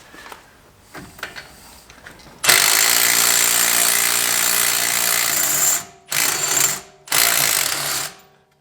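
A Milwaukee power impact tool hammers out Dodge Journey front wheel bearing bolts: a long, loud rattling burst after a few small clicks, then two shorter bursts, close and alone.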